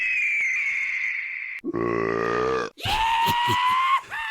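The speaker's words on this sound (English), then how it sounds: "That's such a graphic burp sound you've got there." One voice performs an exaggerated, drawn-out mock burp, a long guttural croak after a higher vocal tone, then a second strained, raspy outburst close to the mic.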